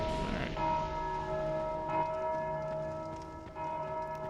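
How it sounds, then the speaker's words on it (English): A church-style bell in the video game Dark Souls 2 tolls steadily in the Undead Crypt, its ringing tones sustained and layered through the whole stretch, with a fresh strike near the start and again around the middle, no talking. "There is one guy right back here ringing that bell."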